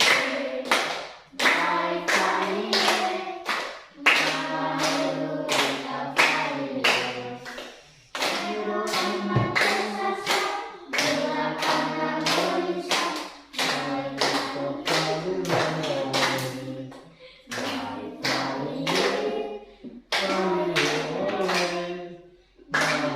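A group claps hands in steady rhythm while singing together, the claps and voices loud and continuous with only brief pauses between phrases.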